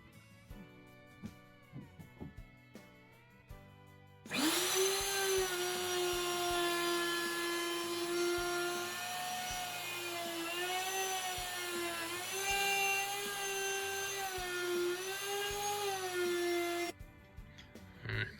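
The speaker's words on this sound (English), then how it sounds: "So now we're gonna router this one out." A router cuts out a shaker-style cabinet door with a loud, steady high whine that holds for about twelve seconds, with light shop knocks and clicks before it spins up and after it stops.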